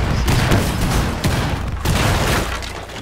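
Loud rolling booms and rumbling blasts from explosions in the tactical shooter game Rainbow Six Siege, one heavy burst after another with no clear gaps.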